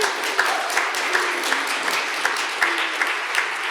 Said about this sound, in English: A round of applause for everyone's participation